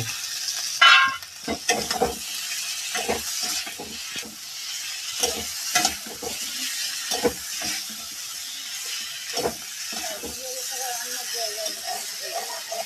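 Potatoes and cauliflower are stirred and fried in an onion-free spice paste with a little oil, a steady sizzle broken by repeated scraping and clattering strokes, with faint talk underneath.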